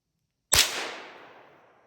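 A single sharp rifle shot while hunting in snowy terrain, cracking out after a half-second of silence and trailing off in a long, fading echo.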